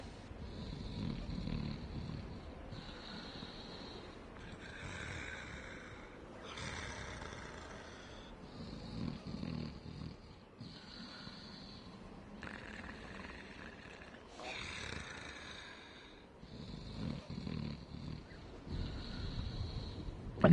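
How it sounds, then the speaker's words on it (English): Frampt, the giant serpent in the video game Dark Souls, snores in long, slow, rumbling breaths that repeat steadily and sound close and moderately loud, with no talking over them. "the snoring that you hear is coming from Frampton next door"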